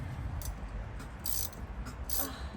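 Ratchet wrench clicking in short bursts while loosening a part on a 600HP drift car's axle, a few quick ratcheting runs, moderately close in a quiet garage with no talk.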